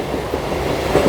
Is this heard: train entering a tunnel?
yes